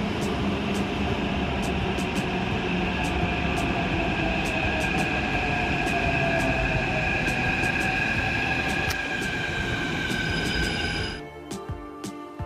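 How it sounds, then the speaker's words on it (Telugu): A Hyderabad metro train at Madhapur station hums steadily with a rising electric motor whine and regular clicking, then the sound drops and changes near the end as it slows. "ప్రస్తుతం ఫస్ట్ ట్రైన్ కోసం నేనైతే ఎదురు చూస్తున్నాను"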